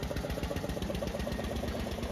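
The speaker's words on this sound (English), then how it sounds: "Engine started, hood back on, with Paul and passenger number 1 aboard." Steady idle of a 1900 New Orleans veteran car's engine, a continuous rapid chugging with mechanical vibration, close and loud throughout with no talk.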